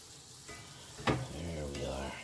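Strained spaghetti noodles are mixed in a Tupperware bowl, giving a short burst of soft, wet squishing and stirring with one sharper clatter near the middle, close and fairly quiet.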